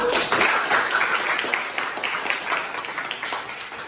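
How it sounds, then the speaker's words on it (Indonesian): Classmates applauding in a classroom during a physics lesson on Gauss's law, a dense burst of many hands clapping together, loud at first and then gradually thinning out. "Aplaus teman-teman"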